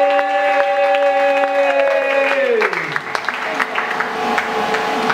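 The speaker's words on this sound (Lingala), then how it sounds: "Est-ce qu'on peut acclamer Jésus?" Church congregation cheering and clapping in praise of Jesus during a prophetic worship service, applause rising under sustained singing or keyboard tones that slide downward, with a voice over the top.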